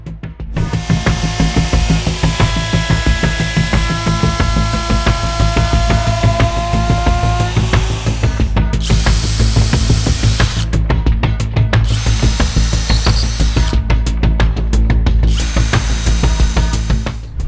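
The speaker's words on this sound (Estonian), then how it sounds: "Nüüd saan vormi täpselt üle freesida." A router trims an MDF board precisely along a template shape, a loud steady high whine with a gritty cutting roar, briefly dropping out and restarting several times near the end.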